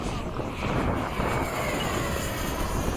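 An F/A-18 jet climbs, a continuous, dense engine roar with wind buffeting that fills the whole stretch at a steady level.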